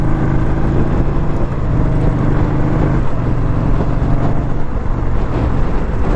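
A 2021 Indian Scout Bobber motorcycle accelerates hard in second gear, its engine a steady loud drone with wind roar from the rider's position, continuous and without talk.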